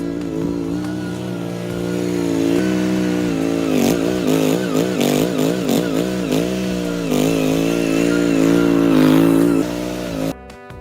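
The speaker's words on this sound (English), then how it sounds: "the first step will be a complete cleanup using my mini skid steer loader" Mini skid steer loader engine running during ground cleanup of dirt and waste material, a loud, close, steady mechanical drone that rises and wavers in pitch through the middle, then cuts off abruptly near the end.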